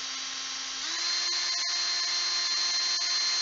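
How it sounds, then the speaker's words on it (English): A handheld power drill spins steadily at full speed, a continuous high whine that steps up slightly in pitch about a second in, with a few faint clicks and no talking. "That's as fast as the drill goes there."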